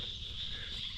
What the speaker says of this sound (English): you guys can hear the frogs in the background.